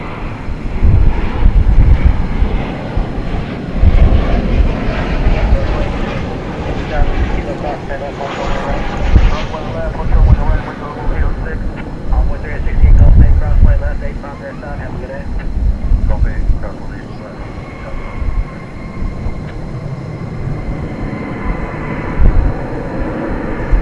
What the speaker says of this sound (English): Flight 1051 from Atlanta. That was a 737-800.